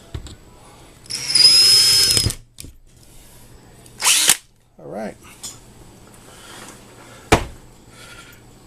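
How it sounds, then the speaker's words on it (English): Power drill boring a hole with a bit for an LED barrel spotlight project: one loud whining burst of drilling, followed by short clicks and handling clatter, with a brief spoken remark. "And let the drill bit do the work."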